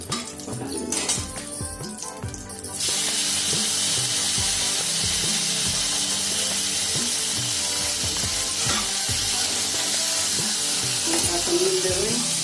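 Chilies, tomato, potato and garlic frying in a wok, a steady loud sizzle with clinks and scrapes of a stirring utensil throughout.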